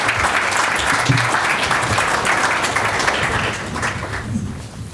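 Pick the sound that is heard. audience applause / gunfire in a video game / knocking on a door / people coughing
audience applause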